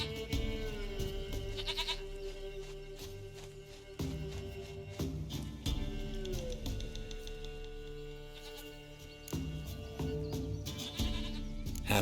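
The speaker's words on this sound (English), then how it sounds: "Goat of mine, dearest, sweetest goat." Goat bleating in the video game The Witcher 3: Wild Hunt, a few wavering bleats heard over steady game music and ambient background, fairly loud throughout.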